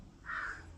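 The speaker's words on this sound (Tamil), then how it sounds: "அதை தாண்டி நான் ஒரு காகம் சத்தம் கேட்குதா" A single crow caws once outdoors, a brief, faint call heard from a distance against quiet background hiss.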